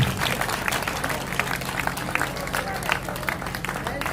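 At an Urdu mushaira poetry gathering, the crowd claps for the poet Khalid. The applause is a full, steady patter throughout, with some murmured talk underneath.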